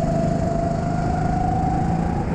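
Rental go-kart engine on a track in Rhodes, Greece, holds a steady buzzing whine as the throttle is applied again, close and constant without speech.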